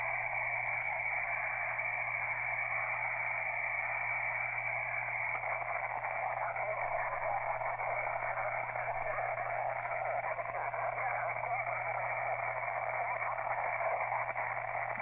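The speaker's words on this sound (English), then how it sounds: "The noise you're hearing is Nomad's audio on the radio." Steady hiss and static from a ham radio receiver waiting on a parachute mobile station's transmission, an unbroken band of noise with a low constant hum beneath it, no voice coming through.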